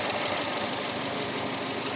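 A 2007-era Subaru Impreza STI engine idles smoothly and steadily, a close, even hum with a fine rapid pulse and no breaks.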